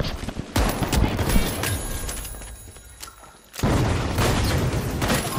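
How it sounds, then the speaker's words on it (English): Grenade launcher fire and blasts in The Finals video game: a dense, noisy barrage of loud booms and cracks, dropping briefly into a quieter stretch before another heavy round of explosions. "It's a grenade launcher, dude."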